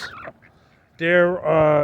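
Peking ducks at a pond give two loud, close honking quacks, one after the other, just after a brief spoken word.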